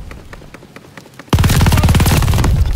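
Automatic gunfire in the video game Call of Duty: Vanguard during a Hardpoint match, a sudden loud sustained burst of rapid shots that cuts in after a quieter stretch of distant, sparse pops.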